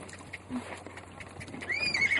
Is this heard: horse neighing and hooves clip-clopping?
yes